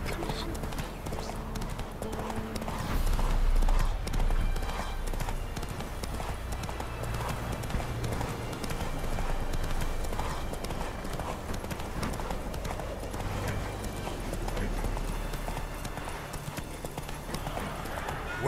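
Roach, a horse in The Witcher 3 video game, clip-clops along with a steady rhythmic hoof beat on the ground, continuing throughout beneath soft ambient game sound.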